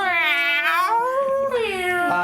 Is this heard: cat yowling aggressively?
yes